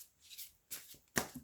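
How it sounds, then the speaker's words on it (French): A deck of tarot cards is cut and shuffled by hand in three short, crisp riffling bursts, close and quiet, with no talking. "Alors, je vais"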